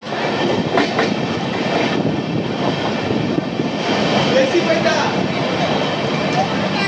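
The Amrit Bharat Express, a train from Malda to Bangalore, rumbles steadily along the rails in a continuous loud roar heard from on board, with a voice speaking over it.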